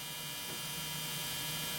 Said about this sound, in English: It's hard to concentrate with this dryer doing this.